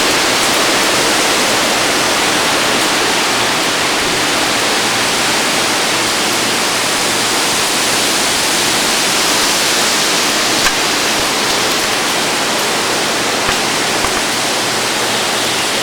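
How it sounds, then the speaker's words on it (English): Rain and wind starting up as a 2004 hurricane approaches near a pool, a dense, steady broadband hiss that stays loud and unbroken throughout, with no talk. "See the pool and the rain starting to pick up a little bit here."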